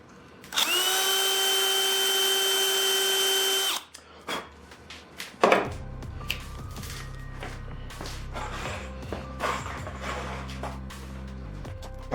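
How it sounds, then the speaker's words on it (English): A power drill fitted with a big drill bit runs at low speed in a woodworking shop, giving a steady, loud whine for about three seconds before it stops. Scattered clatter and handling noises follow. "You could get away with a big drill bit, but run it on a low speed."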